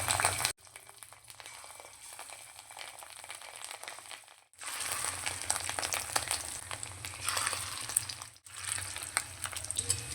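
Fish roe fritters fry in hot mustard oil with a steady, crackling sizzle close up, dipping into brief near-silent breaks twice as the pieces are turned, with no talking.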